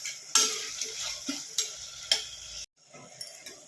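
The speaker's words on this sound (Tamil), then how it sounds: "புதினா அப்புறம் பூண்டு இஞ்சி பச்சை மிளகாய் இது மூணுத்தையும் அரைச்ச அந்த பேஸ்ட்டை இப்போ இந்த இதில் சேர்த்துட்டேன் வெங்காயம் தக்காளி நல்லா வதங்கிருச்சு" A spoon stirs sautéing onion and tomato with a ground mint, garlic, ginger and green chili paste in a pan for veg biryani, with sharp scraping clicks over a steady sizzle, then a brief pause and quieter stirring.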